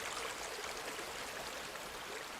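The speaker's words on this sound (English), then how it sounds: "ending up with this steady flow of this river" A river flows steadily with a continuous broadband rush of water, even and unbroken throughout, with no voices.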